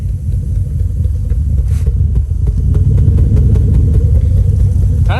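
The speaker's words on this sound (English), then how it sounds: "Exhaust definitely sounds a little bit different." Toyota 3UZ V8 swapped into a Nissan 240sx, its exhaust rumbling loud and close at a steady idle with a slightly uneven, lumpy pulse and no one talking.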